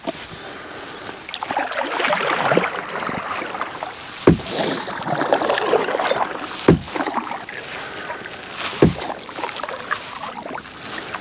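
A solo canoe glides down Loch Voil, paddle strokes splashing and dripping nearby under light wind, with a few sharp knocks of the paddle against the hull spaced a couple of seconds apart.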